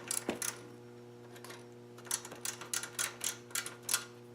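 Small 1/4-inch drive ratchet tightening little flanged bolts on a Predator 212 mini bike engine, a close run of quick, crisp clicking strokes in irregular bursts over a steady low hum.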